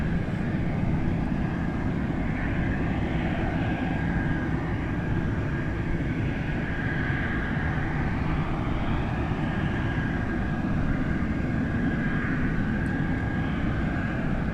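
A Douglas DC-6 propeller airliner idles its piston engines at Anchorage airport, a steady, moderately distant drone with a faint tonal hum, continuous and unbroken with no voices.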